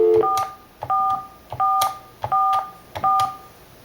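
Five short dual-tone telephone keypad beeps from pressing 4 five times sound in an even rhythm, clear and close, with brief gaps of quiet between them.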